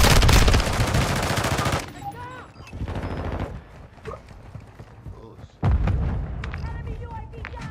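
Dense bursts of automatic gunfire from a military shooter game rattle loudly at the start, fade to sparse shots and radio-style chatter in the middle, then erupt again with sustained firing near the end, with voices talking over the action.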